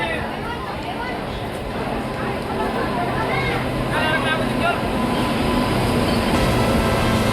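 A Capital Express passenger train pulls into a station with a steady rumble of rolling wheels and carriages, with crowd chatter and voices around the platform.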